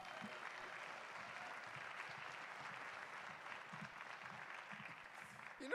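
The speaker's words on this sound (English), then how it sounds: "So everybody, Mike, please give him a round of applause." A crowd applauds at an Ignite North Bay talk event, an even, steady wash of clapping that continues throughout and sounds somewhat distant and muted.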